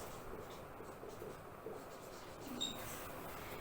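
A pen scratches steadily across paper while someone writes out an integration step by hand, a faint close scraping under a low background hiss with no talk.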